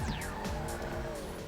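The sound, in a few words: Schwartzer car engine revving in GTA 5 video game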